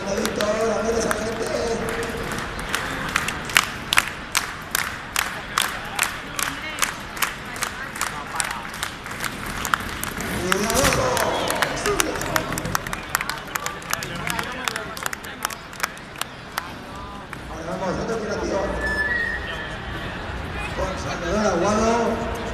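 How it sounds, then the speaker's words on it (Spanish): A crowd at a motocross freestyle show at the Feria Valencia claps in a steady rhythmic beat that breaks into looser applause and cheering midway, with an announcer talking over it in a large echoing hall. "A ver esas palmas"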